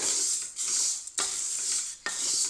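Repeated scraping strokes of a spoon stirring a batch being dry-roasted in a pan on low flame for sunni undalu, three close, loud sweeps with short gaps, no voices.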